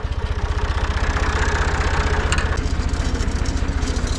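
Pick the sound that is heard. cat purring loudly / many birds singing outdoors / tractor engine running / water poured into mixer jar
tractor engine running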